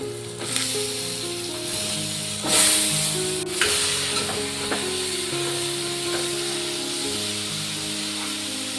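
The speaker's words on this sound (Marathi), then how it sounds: "हे बघा, भाज्या टाकते मी।" Vegetables hitting a hot pan set off a loud, steady sizzle with bursts of hiss and a few clinks, continuing close up throughout.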